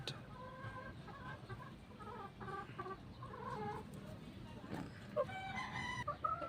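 Several four-month-old chickens cluck and squawk close by in a busy flock, with a few louder calls near the end and a faint voice underneath.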